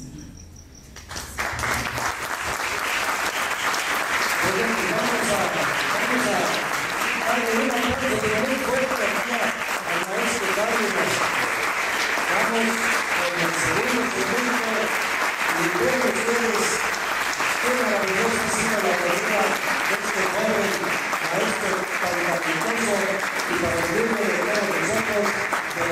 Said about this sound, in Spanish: Un aplauso y seguimos adelante.